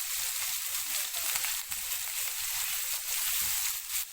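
Vegetables and potatoes sautéing in a hot pan give a steady close sizzle and crackle with a constant frying hiss and faint stirring scrapes, heard alone without talk.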